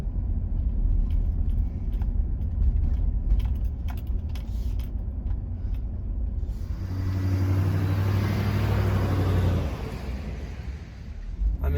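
A 2000 GMC Yukon XL 2500 rolling through a quiet neighborhood, a low engine rumble heard from the cabin with clicks and rattles early on, then a louder surge of engine and road noise midway.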